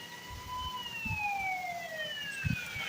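Police car siren in the Indian Bike driving video game, a wailing tone sweeping down and rising again, moderately loud over low engine rumble and a few thumps.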